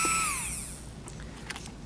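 A Foredom 1050 micromotor handpiece running at about 20,000 RPM whines loudly and winds down in pitch, followed by a few faint clicks.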